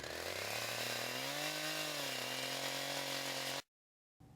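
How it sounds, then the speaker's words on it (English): A chainsaw cutting a tree runs with a loud, steady, high whine whose pitch dips and rises slightly under load, then cuts out abruptly near the end, leaving silence before a faint return. "slide the saw past your body to avoid getting the bar stuck"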